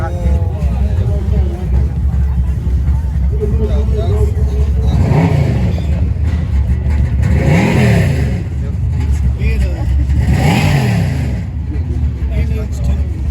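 Rat rod engine running with rail pressure set very high, loud and close, blipped to three rising revs that hang before slowly dropping, under a steady idle rumble with speech mixed in.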